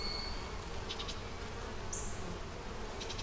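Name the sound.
honey bees buzzing in an open hive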